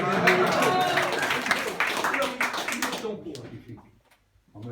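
An audience at a wine-tasting gathering of a local brotherhood claps in a dense, lively burst mixed with chatter and voices. The applause lasts about three seconds, then cuts off into near silence.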